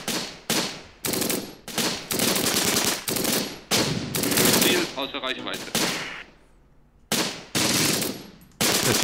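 Repeated bursts of World War II small-arms and machine-gun fire in the Close Combat strategy game, loud and close, rattling in sharp volleys separated by brief pauses, one gap nearly silent before firing resumes.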